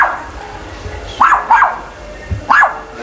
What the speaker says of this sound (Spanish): ese no es el que está ladrando